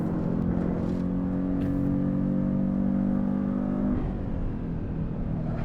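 A Porsche 914, the first safety car, pulls hard around a track as the driver gets back on the throttle. The engine drone holds steady and loud with rising harmonics, then shifts pitch near the end.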